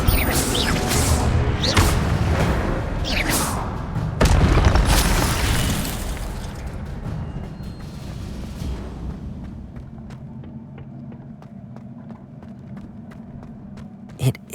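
Spell combat in Hogwarts Legacy, with a loud Stupefy blast landing among several booming bursts and crackling magic in the first few seconds, before the action settles into a quieter rumbling ambience with faint clicks.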